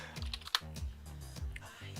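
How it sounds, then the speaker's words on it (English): Steady typing on a Logitech K120 computer keyboard during a Diablo II: Resurrected gaming stream, a fast run of close, soft plastic key clicks with game music and effects playing underneath. "I like your keyboard sounds."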